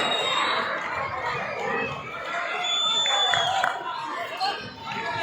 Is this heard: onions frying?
no